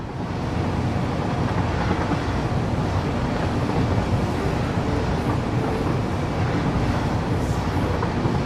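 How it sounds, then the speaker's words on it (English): A massive train in Satisfactory runs through open landscape with a steady, dense rumble and wash of noise that stays even and continuous throughout. "A massive train running through a beautiful landscape."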